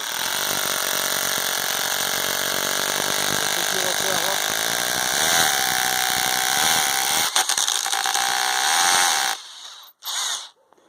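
A rotary hammer drills steadily into brick with a harsh, continuous buzzing whine, close by, then cuts out with a brief final burst.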